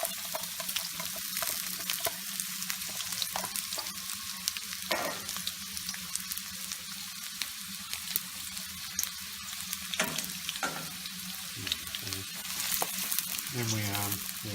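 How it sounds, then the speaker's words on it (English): Onions frying in plenty of oil, a steady, dense sizzle and crackle throughout, close, with occasional scrapes and stirs of a utensil in the pan. "we're going to fry these onions off in all that oil until they just start to turn brown"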